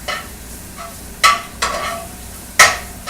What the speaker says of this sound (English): I'm going to shake it all over the grease in the pan